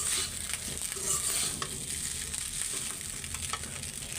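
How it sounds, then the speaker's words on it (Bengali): Leftover rice frying in a pan for eggs gives a steady, close sizzle with stirring scrapes throughout and no talking. "তো এটা আর একটু ভাজা ভাজা করব আর ডিম ভাজবো"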